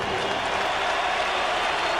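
Arena crowd applauding boxer Bert Cooper after his bout with Holyfield, a dense, steady wash of clapping heard from a distance with no break.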